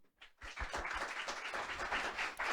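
Audience applause following a panel talk on energy innovation, a dense wash of clapping that starts after a brief lull and holds steady at moderate loudness to the end.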